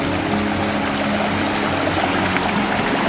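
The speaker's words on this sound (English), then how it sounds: "It's good to be hiking up this stream. Water everywhere." Water flowing steadily along a forest stream on a hiking trail in Thailand, a dense continuous rushing wash close by with no talk over it.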